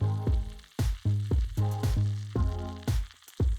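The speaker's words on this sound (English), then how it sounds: "Add in the sausage and cook for approximately 5 minutes. Use a wooden spoon to break up the sausage into crumbles" Sausage crumbles sizzle in a skillet as a wooden spoon breaks them up, with loud, repeated scraping strokes cutting through a steady fry.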